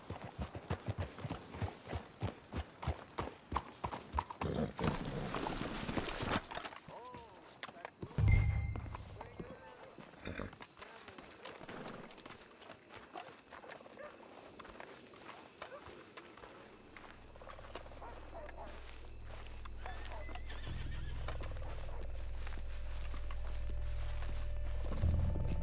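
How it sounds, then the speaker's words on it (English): Horses' hooves clip-clop in Red Dead Redemption 2 as riders approach and hitch up, a run of close, regular hoof beats that breaks off into quieter game ambience, with a low rumble building toward the end. "Let's hitch your horses up ahead."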